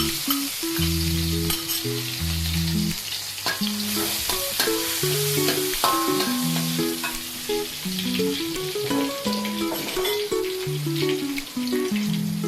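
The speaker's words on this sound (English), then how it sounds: "Stir fry the garlic first." Garlic stir-frying in a pan for a baked bean and egg dish, a loud continuous close sizzle with scraping stirs, under a steady background melody.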